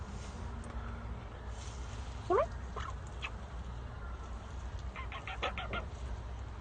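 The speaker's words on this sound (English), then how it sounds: "Oh, bird." Short, faint honking bird calls, goose-like, come in a brief burst and then a quicker cluster later, set against a steady low background hum.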